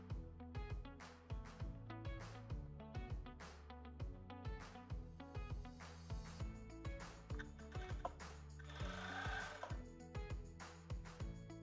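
A sewing machine stitches a seam on boxer briefs fabric in steady rapid bursts, running loud and close with short pauses between runs and no talking.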